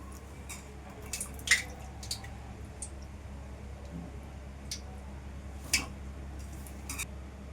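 Cauliflower pieces being stirred into batter for gobi manchurian, giving quiet, scattered wet squishes and sharp little clicks at an irregular rhythm, close by and faint, with no talking.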